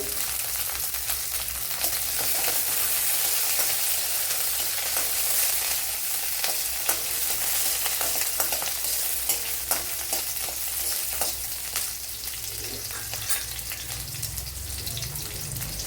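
Ginger, green chillies and curry leaves sizzle in hot oil while frying for a Kerala-style chickpea curry. A steady, close crackling hiss continues throughout, with occasional stirring scrapes.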